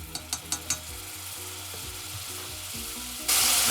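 Garlic sautéing in hot oil with roasted spices, a loud close sizzle with a few sharp clicks at the start, then a steady hiss that swells suddenly at the end.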